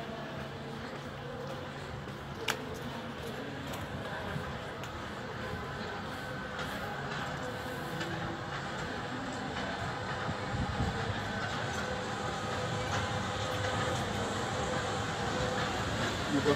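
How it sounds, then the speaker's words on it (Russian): A passenger train pulled by an electric locomotive arrives late at a Ukrainian railway station, a steady broad rumble and rolling clatter that grows slightly louder as it draws in, with no voices. "Прибытие под электровозом"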